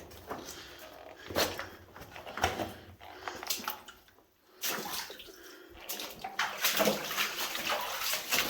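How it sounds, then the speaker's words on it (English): Water flows and splashes inside a flooded abandoned lead mine, producing uneven bursts of sloshing and trickling that echo faintly, with brief quieter gaps between the louder splashes. "Water."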